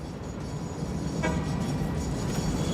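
A water-carrying train in the game Satisfactory rolls along in a steady low rumble with faint clatter and a brief metallic ring partway through, continuous and moderately loud.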